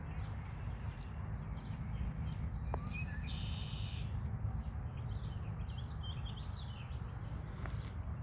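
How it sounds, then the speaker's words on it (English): Birds call outdoors beside water where a beaver swims, a few faint, brief chirps and whistles standing out over a constant low rumble of wind or background noise. "There's a lot of birds out here."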